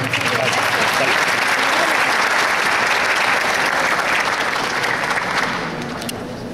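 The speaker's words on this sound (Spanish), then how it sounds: "nuevamente solicito su aplauso" Sustained audience applause for a panel moderator and panelists at a teachers' union education forum, a dense steady wash of clapping that fades slightly near the end.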